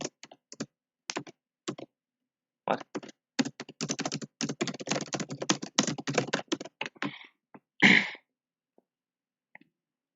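Intense, rapid typing on a computer keyboard during a competitive programming session: scattered keystrokes at first, then a dense run of clattering keys, close and clear, with one brief spoken word near the end.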